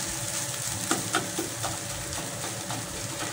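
Rohu fish roe frying with bitter gourd in a pan, a continuous close sizzle with a few light clinks of stirring, no voices.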